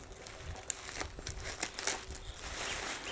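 Packaging on a shipped parcel holding a plant crinkles and tears as it is opened, close and fairly quiet, with scattered sharp rustles and crunches.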